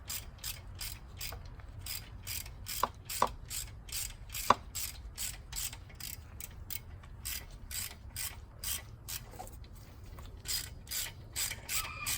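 A hand ratchet clicks steadily as a clamp is tightened onto an EGR block-off on a Mercedes 300D, fast repeated pawl clicks running throughout at close range with a few sharper knocks and no talk.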